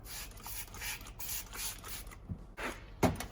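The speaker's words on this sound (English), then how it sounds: "I'll just spray some degreasering around here just to loosen up any of that" Short bursts of aerosol degreaser hiss onto engine parts for a homemade twin turbo oil feed, repeating in an uneven rhythm at close range, with a louder final burst near the end.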